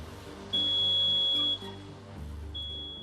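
Alarm beeping from an STM DOMIX 45 water meter-mixer in fault with R.L on its display: a steady high electronic tone holds for about a second, then sounds again near the end over low machine hum.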